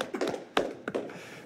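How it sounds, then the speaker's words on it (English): A single person claps at a budget approval meeting, giving a few soft, fairly faint claps at uneven intervals in a quiet room. "Ms. Michael is clapping if you cannot hear it in the public"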